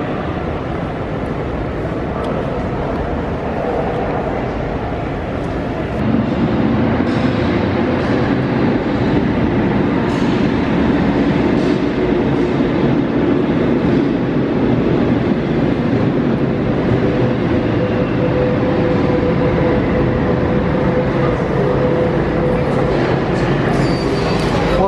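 Lisbon metro train at an underground platform near the airport: a loud, sustained rumble and hiss of the railcars that swells after a few seconds and holds steady, with some wind buffeting on the microphone.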